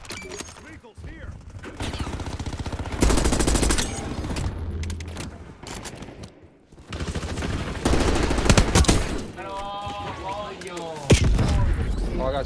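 Sniper shot and bursts of gunfire in a Call of Duty Warzone Resurgence match, loud repeated cracks and rattling volleys in dense layers under game effects and occasional talk.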